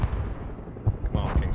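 Rocket salvos from MLRS artillery in the modern real-time strategy game Broken Arrow, with repeated booming launch thuds over a rumbling battle background.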